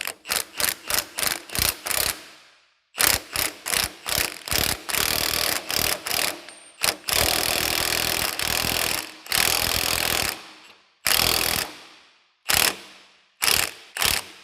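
Impact wrench hammering on a ball joint press tool, driving a bushing into a restored SVT Lightning truck frame, in rapid loud bursts of rattling blows, first short stuttering pulses, then longer sustained runs separated by brief pauses.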